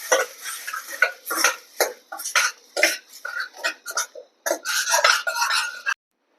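Masala paste being stirred and sautéed in a pan, a spoon scraping and clinking against the metal in quick irregular bursts of close scratchy strokes with brief pauses between.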